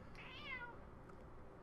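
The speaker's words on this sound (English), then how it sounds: "annoying cat." A house cat gives a single short, faint meow, heard alone against a low background hum.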